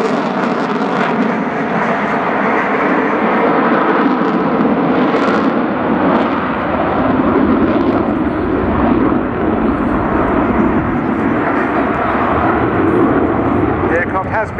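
A Boeing F/A-18 Super Hornet jet roars loudly at an airshow as it pitches and climbs, a sustained thunderous engine rumble with shifting tone under continuous commentary over a public address system.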